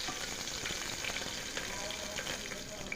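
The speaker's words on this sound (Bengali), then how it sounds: "পেঁয়াজটাকে একটু ভেজে নেব মিনিট খানেক" Diced onion fries at medium heat in a pressure cooker with a continuous close sizzle, with faint stirring scrapes now and then.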